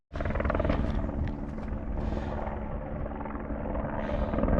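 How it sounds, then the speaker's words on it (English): A helicopter ferrying construction material in a mountain national park meadow, giving a loud, steady rotor rumble and whine that starts abruptly and holds throughout. "We've got a helicopter working today, bringing construction material in, possibly taking some stuff out."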